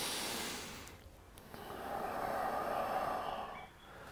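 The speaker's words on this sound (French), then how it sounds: "Inspirez, les poumons se gonflent, expirez, les poumons se vident." Slow, deep chest breathing during a guided exercise: a long airy breath sound, a brief pause near the middle, then a fuller, louder exhale-like rush that fades at the end, close and alone without speech.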